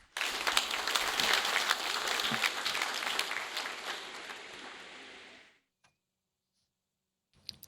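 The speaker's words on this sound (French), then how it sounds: "Sous vos applaudissements, s'il vous plaît." Audience applause at a commemoration ceremony for the abolition of slavery, a dense wash of many hands clapping loud and steady, then fading out around five seconds, followed by near silence and a faint click.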